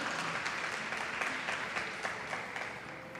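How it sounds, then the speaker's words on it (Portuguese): Church congregation applauding during a sermon, a steady broadband clatter of many hands at moderate level with faint voices mixed underneath. "Você pode aplaudir a Ele e glorificar o nome do Senhor"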